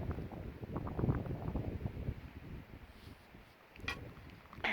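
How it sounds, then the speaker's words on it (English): Wind blowing outdoors on a sunny day, buffeting the microphone with a steady low rumble, easing slightly before a stronger gust swells near the end. "I can hear the wind."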